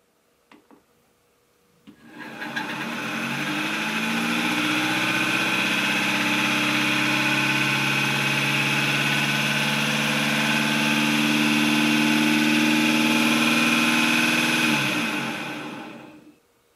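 A DeWalt-powered balancing machine spins an intentionally imbalanced test rotor. The motor spools up quickly into a sustained, loud whirring whine with a slight rising tone, holds for over ten seconds, then spins down.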